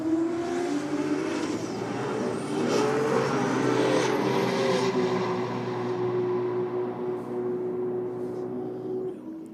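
Gas-powered drag racing cars roar down the strip in a loud, sustained engine howl, its pitch rising as they accelerate before the noise thins out and fades at the end.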